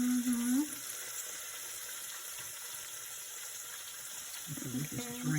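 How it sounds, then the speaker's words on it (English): Excess oil draining off fried vegan cauliflower wings, a soft continuous trickling hiss running beneath brief voices at the start and end. "So we just draining the grease off, guys. So get all that excess oil."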